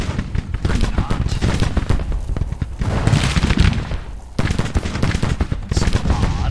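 Army gunfire in a Battle of Shiloh video game: dense, continuous volleys of rifle shots and booming bursts fill the clip, with faint voices underneath.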